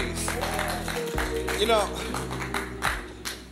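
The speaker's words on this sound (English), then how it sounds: "Let's give the Lord a hand clap of praise." A church congregation claps hands in praise during a Sunday service, a dense run of claps mixed with an organ's sustained chord and a voice talking over it.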